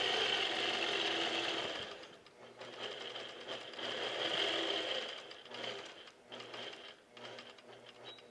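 A longarm quilting machine stitches a pantograph pattern, a steady mechanical whirring hum that pauses and restarts in short runs, with no talking.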